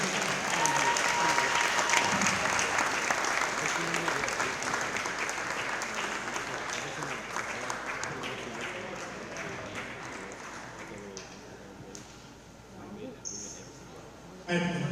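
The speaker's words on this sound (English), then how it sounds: "Let's give a round of applause to Weston Chung, Gus Ford, and Matt Ramos." Audience in a high school gym applauds senior boys volleyball players on senior recognition day, a loud sustained round of clapping that slowly thins out, with crowd murmur and a few voices near the end.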